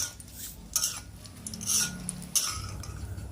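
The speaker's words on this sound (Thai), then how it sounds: "เอาพริก แห้งอุบลนนะครับ ลงไปทอดเลย" Oil crackles and hisses steadily in a pan as dried Ubon chilies fry, with a few sharp metallic scrapes and clinks from a utensil stirring.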